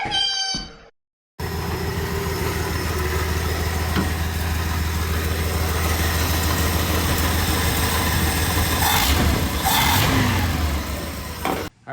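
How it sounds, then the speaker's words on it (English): An old Ford F100 pickup truck engine just revived after sitting: a brief high whine, then a moment of silence before the motor catches and runs steadily with a rough, loud idle, blipping higher a couple of times. "Truck runs."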